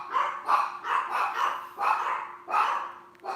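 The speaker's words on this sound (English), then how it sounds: "Somebody must be at the door. The dogs are barking." Dogs barking in a rapid series of about six loud, close bursts with short gaps between them, and no other sound.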